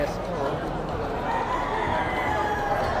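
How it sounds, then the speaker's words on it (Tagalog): A rooster at a bird expo crows amid a busy indoor crowd, the call faint and partly masked by steady chatter and background murmur. "tas may mga manok pa yata dito si Sir Allen eh."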